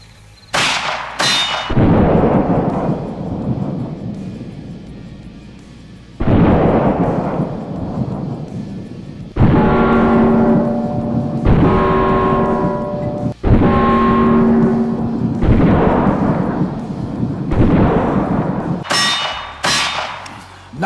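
Gunshots at an outdoor shooting range: a quick pair of loud cracks, then several single heavy booms spaced a few seconds apart, each with a long ringing decay and metallic target clang.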